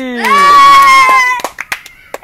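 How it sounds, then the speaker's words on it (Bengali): A small child's drawn-out voice, followed by a few sharp, scattered hand claps, close and loud, as brief applause. "হাততালি"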